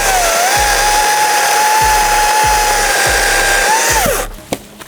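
A Dnipro-M battery chainsaw cuts through dead wood with a loud, steady electric whine, a low rhythmic pulsing running beneath it, until the motor winds down and stops near the end.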